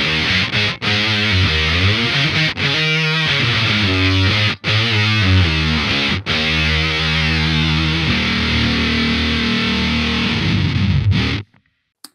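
Electric guitar through a Submachine octave fuzz pedal with the octave up engaged. Loud, fizzy distorted riffing with choppy stops, rising synth-like notes and sustained chords, then a fade, with no talk.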